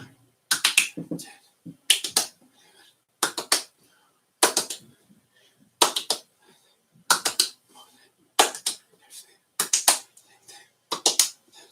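Sharp, close hand claps ring out in repeated groups during a throw-clap-catch ball game, with soft thuds of the ball being caught between bursts and quiet pauses.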